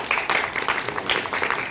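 A banquet-hall crowd at a chamber of commerce general meeting applauds, a dense and steady wash of many hands clapping together at close range with no talking over it.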